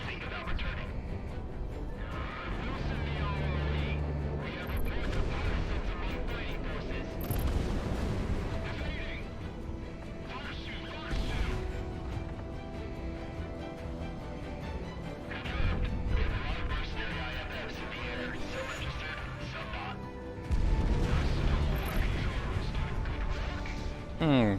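Bombs and cannon blasts hit ships during an air combat mission in the flight game Project Wingman, with repeated booming impacts and crashes over a steady loud background of jet noise and game effects.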